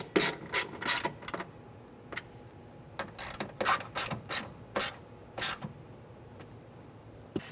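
A ratchet tightens bolts on a Ford Explorer rear door during a window motor and regulator replacement. It gives short, quick clicking bursts with pauses between them, close by and with no talking.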